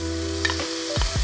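Minced garlic dropped into a hot pan for shakshuka, with a steady close sizzle of frying and a couple of scraping stirs near the end.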